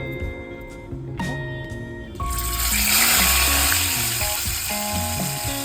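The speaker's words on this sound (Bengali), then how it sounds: "তাই আমটাকে নুন দিয়ে সেদ্ধ করতে বসিয়ে দিলাম" A pot of mango in salted water comes to a boil, a steady, broad bubbling hiss that swells after a couple of seconds and holds, with faint background tones beneath.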